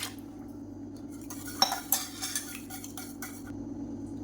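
A whisk stirring ragi and black kavuni rice porridge in a pot, light metallic clinks and scraping strokes that pick up midway, close and fairly quiet with a steady low hum beneath.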